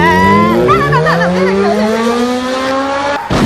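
A motor engine hums steadily with rising pitch, like a motorbike underway, continuous and fairly loud, ending with a brief burst of wind noise.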